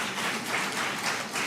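An audience at a ceremony releasing CXC exam results claps together in a steady, moderately distant wash of applause with no voices over it.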